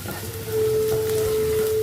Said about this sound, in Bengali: ততক্ষণ একটু ভাজবো।